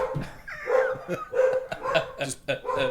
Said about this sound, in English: That's those damn dogs next door.